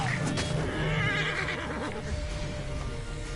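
A horse neighs in the video game Assassin's Creed Origins, a clear whinny near the start followed by snorting and breathy sounds under a continuous game background, close and fairly loud.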